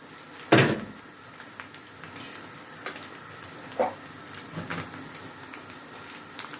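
Two spoonfuls of tomato sauce added to a pan and stirred while cooking for baked pasta with béchamel, a soft continuous sizzle with scraping stirs and a few clunks of the spoon, close by.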